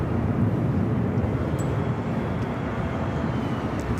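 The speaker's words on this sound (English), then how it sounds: "It's American Flight 3, A321," An American Airlines A321 jet airliner roars steadily at LAX airport, a broad, even rumble of jet noise heard from some distance, with no speech.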